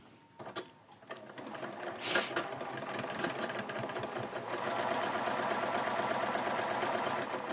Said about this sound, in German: ich nähe jetzt mal den zweiten Abnäher